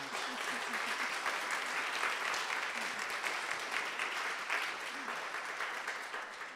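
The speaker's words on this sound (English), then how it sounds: "I think that's worth another round of applause" Sustained applause from an audience following a question-and-answer dialogue at Harvard on race, a dense, steady wash of many hands clapping at moderate distance, holding evenly throughout without a break.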